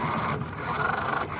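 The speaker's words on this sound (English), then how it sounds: "Just gotta push all that sand out of the way. It has to dig down to the concrete." A cheap toy-grade RC car ploughs through sand down toward concrete, giving a continuous gritty scraping and rasping with a steady motor whine, close and fairly loud with no voices.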